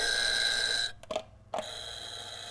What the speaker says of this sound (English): Here's Shelly's buzzer she got me, right?